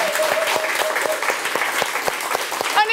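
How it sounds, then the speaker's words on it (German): Studio audience clapping for Tine Wittler, a brisk wash of many hands with sharp individual claps standing out, close and steady to the end, with a faint voice briefly audible at the start. "Natürlich nochmal einen Hammerapplaus für Tine Wittler."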